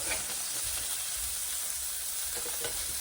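Salmon fillet frying in a pan as it is flipped, a loud continuous bright sizzle with a faint scrape of turning, close and steady throughout, with no talking.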